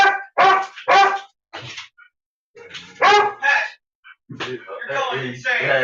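An excited female dog gives a few loud, close barks and yips with gaps between them, and a person talks near the end.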